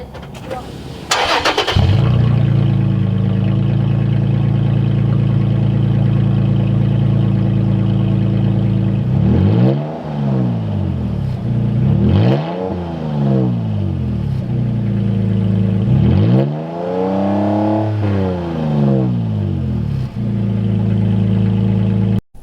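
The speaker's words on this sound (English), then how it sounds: "I was wondering what the truck sounds like with no exhaust on." A third-generation Toyota Tacoma pickup engine, running with the exhaust removed, cranks and starts with a bang, then idles loudly and raw before three deep, throaty revs swell and fall back.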